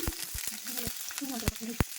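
Onion hisses in about two spoons of hot oil in a pan, a soft sizzle broken by intermittent scraping and stirring knocks, with sharp clatters near the end.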